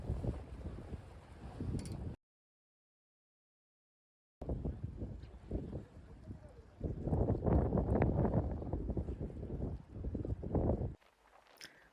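Strong wind buffets the microphone at a seawall during a fishing trip on Jodo, Korea, a loud roaring rush broken by a short silent gap, then building to a heavier sustained gust before easing at the end.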